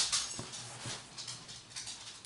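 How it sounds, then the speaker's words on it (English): A dog indoors whimpers faintly a few times, soft high whines with small patters and shuffles in a quiet room. "my dog is here with me"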